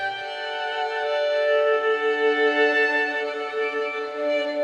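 A Woven Violin sample library in Kontakt plays a sustained, bright violin line with a gentle vibrato, a single smooth bowed phrase heard alone and up close.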